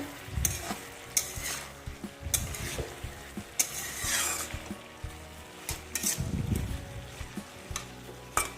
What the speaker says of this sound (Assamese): এইখিনি ভালদৰে ভজা খাব লাগিব